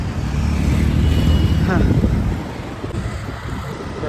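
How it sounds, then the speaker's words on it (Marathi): Strong rushing wind buffets the microphone while riding a motorbike on a road trip from Mumbai toward Kokan, with road and engine rumble underneath, the roar easing off toward the end. "मस्त हवा सुटली आहे"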